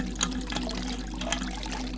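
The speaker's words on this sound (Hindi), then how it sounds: "हाथ धो लिए" Hands are washed with water poured from a pot in a horror story soundscape: a steady, faint splashing trickle runs continuously over a low hum.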